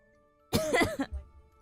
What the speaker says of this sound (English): Hopefully next week this cough will be gone.